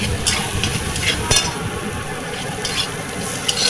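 Spices being sautéed and stirred in oil in a pan for a thin tilapia fish curry with bitter gourd and potato, a steady close sizzle with scraping stir strokes.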